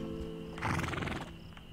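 A horse in the game A Plague's Tale Innocence gives a short, close whinny over a faint background hum, with a hint of hoof movement.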